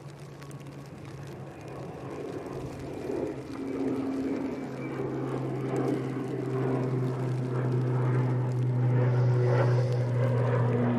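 A propeller airplane takes off at Manchester Airport, its engine drone building steadily from moderate to loud over several seconds, with a low sustained hum and rising tone against open-air background.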